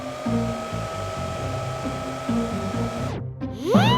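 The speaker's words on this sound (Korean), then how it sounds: "드라이기를 쓰면 나아지려나?" A hair dryer blows with a steady whirring hum, then cuts off and spins up again with a rising whine near the end.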